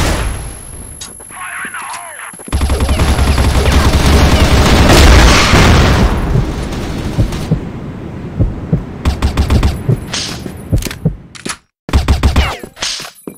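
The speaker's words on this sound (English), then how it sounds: "Smoke and grenades!" A Crossfire ranked search-and-destroy match erupts in a long, heavy rumbling grenade blast, followed by scattered sharp bangs and pops. Gunfire and shouted player voices mix in.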